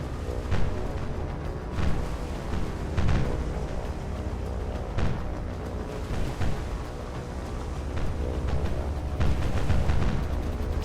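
Naval shells fired in the warship game War on the Sea, a series of deep distant booms every second or two over a constant low rumble of sea and engines, no voices.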